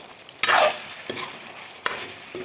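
Two spoons of ghee go into a pan of local chicken curry with potatoes, giving a loud sudden sizzle followed by frying crackle and a few scraping stirs, close up without talk.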